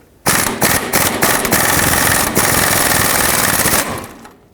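A rusted sway bar link nut on a 2001-07 Toyota Sequoia is loosened with a 17mm socket and locking pliers. A loud, close, continuous rattling hammer lasts about four seconds, then stops abruptly.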